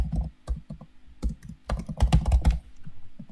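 Quick, irregular typing on a computer keyboard during a video editing session, with clusters of close, crisp key clicks and short pauses between bursts.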